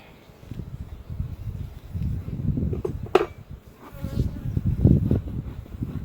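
A low, swelling hum of many honey bees buzzing close at an open hive, with faint rustling and a brief clink.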